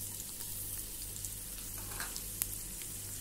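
Garlic sizzles steadily in hot olive oil, a faint, even frying hiss with a steady low hum beneath and one small tick, no talking.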